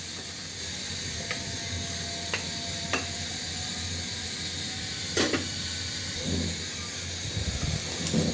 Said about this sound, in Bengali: ঝোলটা কিন্তু খুব সুন্দরভাবে ফুটে গেছে